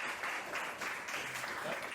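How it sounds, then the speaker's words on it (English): Audience clapping during an insurance bonding lesson session, a brief burst of applause from a room of people, even and sustained for two seconds. "Another round of applause for Wade Powell, who won the main contracts."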